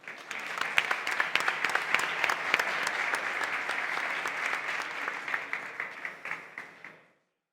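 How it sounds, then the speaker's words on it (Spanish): Audience at a national technical fire-protection congress breaks into sustained applause, dense steady clapping from a large crowd that thins into scattered claps and stops abruptly near the end. "los aplausos han sido de verdad sentidos"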